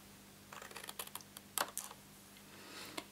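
Scissors snipping a square off a scored paper card during a card-box craft build, a quick series of crisp cuts close by, with one louder snip near the middle and no talking.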